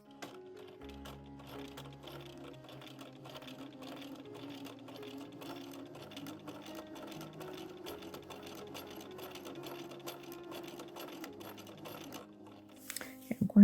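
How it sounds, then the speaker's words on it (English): A domestic sewing machine stitches three sides of a primitive flag fabric bowl filler, running steadily with rapid needle clatter and motor hum, nearby and alone, ending with a brief clunk. "So I'm going to sew the 3 sides, but I'll leave an opening on the bottom for turning."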